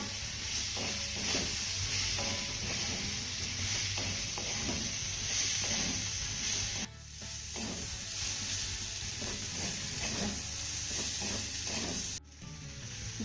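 Chopped wheat flour rolls sizzle steadily in a hot pan while being stirred and tossed, a continuous close frying hiss with occasional scraping and a couple of brief pauses.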